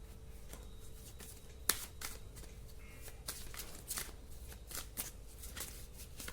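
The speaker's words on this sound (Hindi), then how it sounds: "मैं और कुछ कार्ड्स निकाल देती हूँ" Tarot cards being shuffled and drawn close up, with quick riffling flutters and soft slaps of cards in an irregular rhythm, fairly quiet with no talk.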